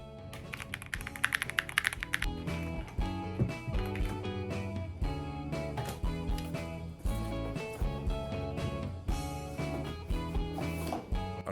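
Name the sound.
typing on a mechanical keyboard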